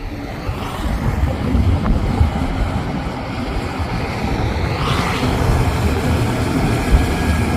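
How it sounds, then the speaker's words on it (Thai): An Isuzu FVZ 300 truck drives past on a road climbing a slope, its engine a steady loud rumble with broadband road and wind noise that swells slightly late in the pass. "น่าจะเป็น FVZ 300 นะครับนี่คันนี้"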